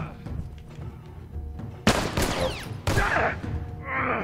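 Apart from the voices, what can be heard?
gunfire from the video game The Last of Us Remastered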